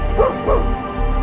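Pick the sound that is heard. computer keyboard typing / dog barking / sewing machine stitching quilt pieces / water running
dog barking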